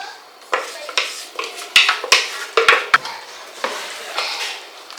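Potato batter, thick like crêpe batter, being mixed in a bowl in a home kitchen, with scraping and clinking of a utensil against the bowl in irregular bursts, fairly close, no talking.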